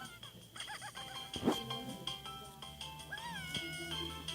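A domestic cat meowing a couple of times over a busy indoor background of hum and clatter, with one sharp louder burst midway and a rising, wavering meow near the end.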